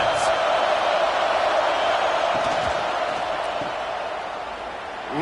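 Steady crowd roar in a college football video game, Arkansas Razorbacks at Texas Longhorns, a broad sustained wash of stadium noise that holds level throughout with a faint swell at the end.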